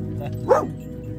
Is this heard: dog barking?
yes